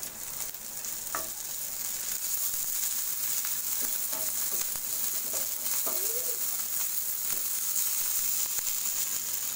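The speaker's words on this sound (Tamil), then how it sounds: "வெங்காயம் வதங்கிடுச்சு. இது கூட இஞ்சி பூண்டு பேஸ்ட்டு சேர்த்துக்கோங்க." Onions and ginger-garlic paste frying in a pan for a Tamil prawn fry, giving a loud, continuous hiss and sizzle with a few faint scraping stirs.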